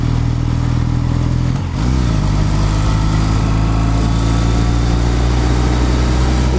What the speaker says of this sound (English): Just trying to hold the gas wide open and go.